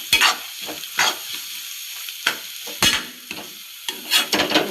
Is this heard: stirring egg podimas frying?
yes